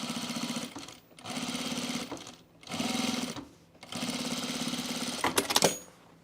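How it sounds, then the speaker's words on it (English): A sewing machine runs in four steady bursts of rapid stitching with short pauses between them while understitching a seam allowance on a pair of pants, ending with a few sharp clicks. "you're going to understitch this seam allowance towards the fly"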